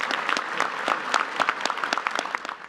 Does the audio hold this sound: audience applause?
yes